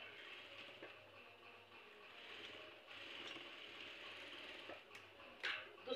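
Sewing machine stitching a tuck into a blouse, running with a steady mechanical whirr and rapid clicking, quiet and close, ending in a couple of sharper clicks.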